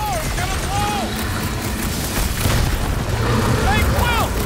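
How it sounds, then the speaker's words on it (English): A car blows up during combat in Marvel's Guardians of the Galaxy game, a loud sustained boom with rumbling debris under game music and character voices. "That car's gonna blow!"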